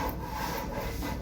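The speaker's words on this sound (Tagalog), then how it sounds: "Clean the toy shelves." A cloth rubs steadily across dusty wooden toy shelves at home, a continuous close scraping swish with no pauses and no voices.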